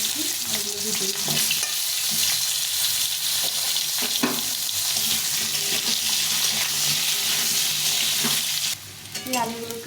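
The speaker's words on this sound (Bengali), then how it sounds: "আলুগুলো লম্বা লম্বা করে নিয়েছি, আলুগুলো ভেজে নেব।" Long-cut potato strips fry in hot oil with a loud, dense, continuous sizzle and crackle close up; the sound briefly drops near the end as the pan is stirred.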